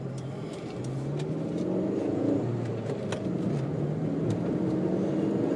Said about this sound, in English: Alright, let's take this thing for a drive